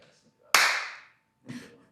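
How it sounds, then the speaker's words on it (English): A single sharp hand clap rings out close and loud, followed by a softer, shorter sound a second later, against near silence. "The clap."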